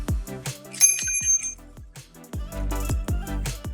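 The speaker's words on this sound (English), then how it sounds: "my favorite sound effects as of now is bell" A bright bell sound effect for video editing rings a sustained metallic chime over a rhythmic music bed with thumping beats and a rising swell.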